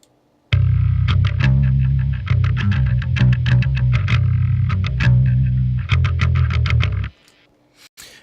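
Heavy metal bass guitar with a distorted layer blended over a clean layer, playing a loud, chugging riff of palm-muted notes and short rests for about six and a half seconds before stopping abruptly.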